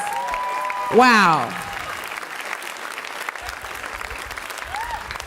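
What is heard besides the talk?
audience applause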